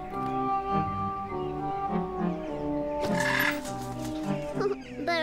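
In the Little Misfortune video game a bird eats its food with soft, repeated clucking chirps over a steady, droning game music background. No one speaks.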